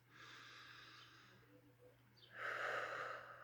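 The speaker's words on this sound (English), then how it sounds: "Take a deep breath in through your nose" A slow, deep breath drawn in through the nose during a calm school assembly breathing exercise, soft and steady at first, then swelling louder and rushier for the final second, with no talking.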